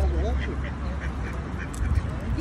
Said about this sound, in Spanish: Guagua no, pato. Cuac, cuac.